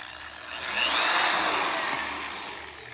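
A power drill with a thick bit bores into a pack of gum, giving a steady whirring noise that swells and then slowly fades, with no talking.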